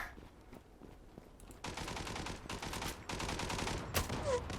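Gunfire in a shooter video game: a few scattered shots, then loud rapid automatic bursts in repeated volleys from about two seconds on, close and dense.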